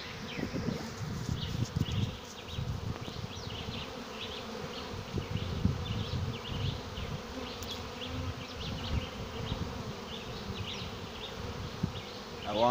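A honey bee swarm moves into a swarm trap, a dense continuous buzzing of many bees close by, with individual bees zipping past now and then.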